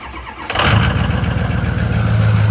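A heavy 6.0 diesel truck engine with a fault cranks and catches after a brief pause, then settles into a loud, rough, rhythmic idle close by.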